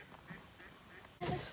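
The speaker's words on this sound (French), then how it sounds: "Il y a les canards." After a hushed nighttime stretch, a short burst of duck quacking breaks out near the end, loud and clustered, from ducks on an island across the water.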